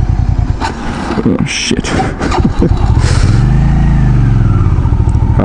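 Engine of a Hyosung GV650 Aquila motorcycle, close and loud, idling and revving with rising and falling pitch as the bike rolls off, while a rider speaks briefly over it.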